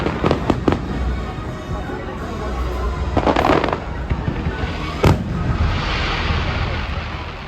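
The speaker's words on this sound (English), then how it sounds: "As the fireworks crashed overhead" Fireworks burst overhead at Epcot, loud and booming in an irregular series of sharp cracks and rumbling explosions over a constant crowd murmur.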